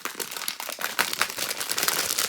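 A plastic packaging bag from a diamond painting kit crinkles continuously as it is torn open, with dense close-up rustling and crackling throughout.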